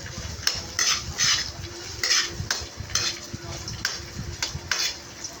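Metal utensil stirring garlic in a pot of frog adobo, with repeated scraping and clinking strokes in an uneven rhythm, close and fairly loud, with no talking.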